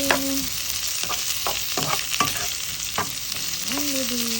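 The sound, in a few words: sautéing vegetables in a pan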